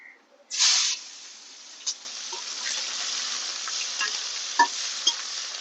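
Onions tipped into hot oil with cinnamon, cloves, bay leaf and dried chili for Bengali mutton curry: a sharp burst of loud hiss on contact, then a steady close sizzle with occasional pops and crackles.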